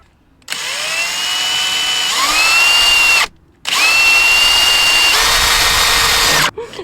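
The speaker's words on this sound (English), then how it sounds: "I'll drill your hole." A power drill boring a hole, running loud and close in two long whining bursts, its pitch rising as it spins up, with a brief stop between them and no voices.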